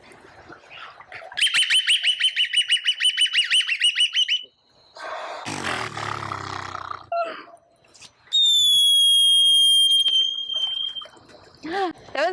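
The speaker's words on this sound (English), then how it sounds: "belugas are known as the canaries of the sea. They have the widest range of vocalizations of any marine mammal." A beluga whale at a marine park aquarium produces a varied run of sounds: rapid repeated chirps, a burst of broadband buzzing and grunting, then long high whistles sliding down and short rising squeaks, loud and close with no talk.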